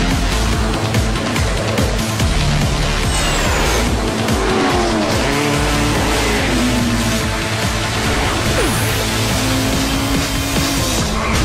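Transforming land, sea and air race cars in a video game roar around the track, giving continuous loud engine whine with tire squeals and skids layered over a busy, dense mix, with no voices.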